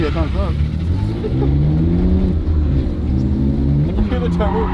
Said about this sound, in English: I can hear the turbo pounding.